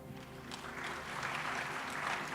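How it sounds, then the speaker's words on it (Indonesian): Church congregation clapping during an evangelist's sermon, a soft, fairly distant wash of applause that swells slightly toward the end, with no speech over it. "Tepuk tangan untuk Tuhan kita."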